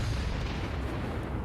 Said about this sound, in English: And Godfrey's going to take his last shot.